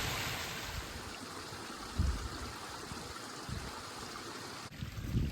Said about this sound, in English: we've got a fairly steep section with a lot of very close together stepped cascades